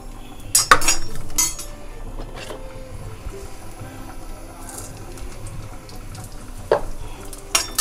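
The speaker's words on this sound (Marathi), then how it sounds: "पहिल्यांदा आलं आणि लसूण मी जरा परतून घेते तेलात" Ginger and garlic sauté in oil in a kadhai, a low quiet sizzle broken by a few sharp metal spoon clinks and scrapes against the pan.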